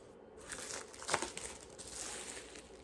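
Plastic wrapping crinkles and crackles as it is cut away from a sheet of skateboard grip tape, a steady close rustle with one sharper tearing burst in the middle.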